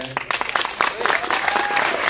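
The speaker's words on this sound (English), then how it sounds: "I just want them to stand up so we can clap for them for 1 minute." A film festival Q&A audience at Screamfest claps steadily in dense applause, loud and continuous, with voices mixed in under the clapping.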